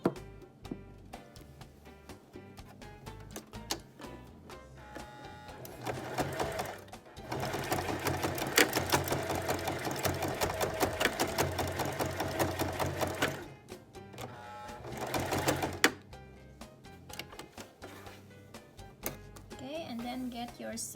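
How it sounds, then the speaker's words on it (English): A sewing machine stitches bias tape onto a face mask in several runs of rapid, steady needle chatter, starting and stopping between pauses with soft handling noises. "then time to stitch"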